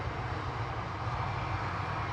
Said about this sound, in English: GZUT for EasyJet headed off to Amsterdam now with flight 2163 Airbus A320 Classic